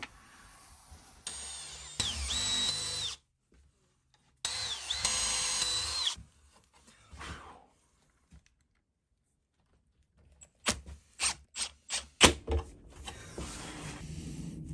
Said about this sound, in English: so threaded insert will go in there, no problem